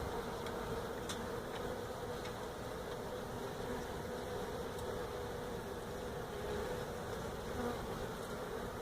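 Honey bees swarm during a hive removal, a dense steady buzzing drone holding throughout, faint and continuous with no voices.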